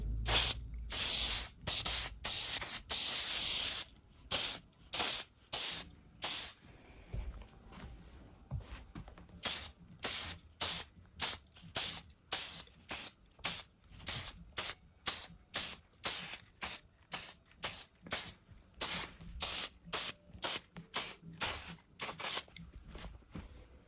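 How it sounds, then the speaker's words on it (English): Repeated short bursts from a clear Zinsser shellac spray can onto furniture, a long hiss first, then many quick evenly spaced spritzes close to the microphone, with brief pauses between them. "I'm going to try to stay really close to the material to give that a spray"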